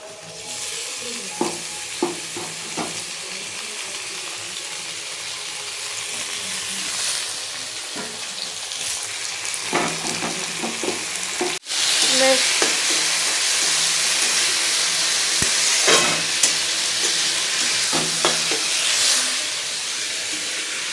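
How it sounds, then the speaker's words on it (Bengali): Onions frying in a pan for egg chowmein, a sustained sizzle and hiss of hot oil with occasional stirring clatters and scrapes, growing louder and fuller after a brief sharp knock partway through. "পেঁয়াজও ভাজা হয়ে গেছে"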